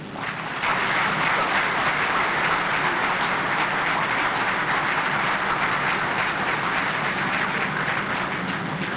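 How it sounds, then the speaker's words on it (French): A large audience at a scholarship awards ceremony breaks into sustained applause for parents, a dense, steady wash of clapping that swells in after a brief moment and holds loud and even throughout. "J'aimerais que nous prenions un moment pour applaudir ces parents extraordinaires que vous êtes."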